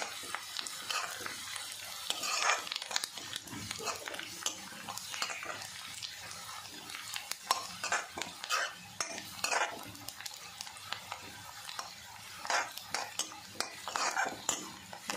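Garlic frying in a pan and being stirred, a steady sizzle broken by frequent scrapes and clinks of a utensil against the pan, close and fairly quiet.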